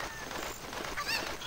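A chicken in the Zelda Ocarina of Time video game gives a few squawking, honk-like clucks over a steady noisy background, moderately faint and brief.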